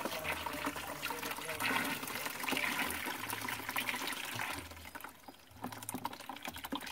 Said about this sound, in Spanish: Prenda el chorro, pues.